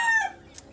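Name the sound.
chickens clucking and rooster crowing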